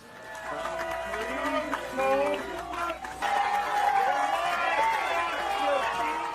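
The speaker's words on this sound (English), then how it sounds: "it's a very enthusiastic crowd here today" An enthusiastic crowd at a live competition event fills the air with steady, loud chatter and cheering, a dense wash of voices that swells briefly near the middle and holds strong throughout.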